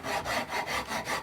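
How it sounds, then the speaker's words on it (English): A rasp worked lightly along a carved wooden guitar neck, five or six even back-and-forth scraping strokes in a steady rhythm, close and clear with no voices. "I'm just light rasping to level it more."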